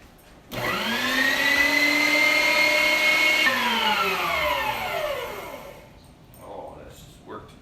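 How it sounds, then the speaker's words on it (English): An electric meat grinder working through skinned trout, its motor whining up to a steady loud hum for about three seconds and then winding down, close by, followed by faint handling noises. "Second fish ready for the grinder."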